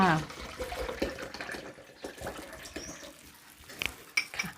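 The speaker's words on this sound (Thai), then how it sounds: "ใช้น้ำมะพร้าวละค่ะ เทลงไปเลยค่ะ" Coconut water poured into a blender with curry paste ingredients of chili, shallot, garlic and shrimp paste, a brief liquid splash with clinks of kitchenware while someone talks.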